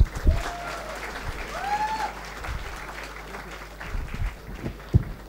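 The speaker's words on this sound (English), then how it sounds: "Please give a huge round of applause for both of them." Audience at a fireside chat event clapping, moderate steady applause with a few louder thumps and faint chatter under it.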